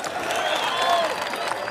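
Crowd applause at a Kenyan political rally where President Ruto and UDA allies launch campaigns in Mowlem, steady dense clapping filling the whole stretch with faint voices mixed in.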